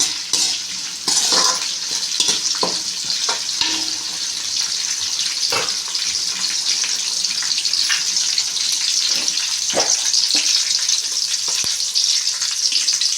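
Curry leaves and spices stirred in a hot pan for an egg tomato pulao, a steady bright sizzle with scattered scraping clicks of a spoon against the pan throughout, close and continuous.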